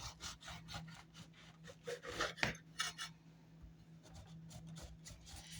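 Knife sawing through slices of homemade wheat sandwich bread, a steady run of soft rasping strokes with a few sharper scrapes, close and fairly quiet.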